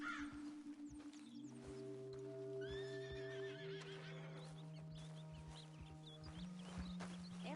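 A horse in Red Dead Redemption II whinnies loudly in a clear, drawn-out neigh, with steady hoof clip-clops, game ambience and distant bird calls underneath.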